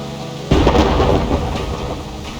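A loud thunderclap bursts in from a quiet start in a Reverse 1999 storm, then rolls on as rumbling thunder over steady rain, with no voices.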